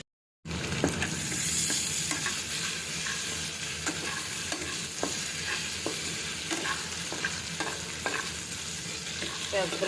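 A whole hilsa fish fries in a pan with onions, giving a continuous close oil sizzle and crackle, dotted with small pops and occasional stirring scrapes, with nobody talking.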